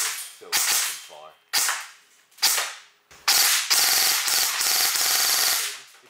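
An airsoft AK rifle fires BBs on full auto in sharp rattling bursts: three short strings of rapid snapping shots, then a longer sustained burst, close and loud with no talking.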